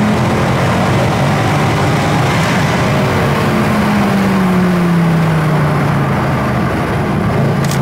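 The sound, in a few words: 6.2 V8 car engine running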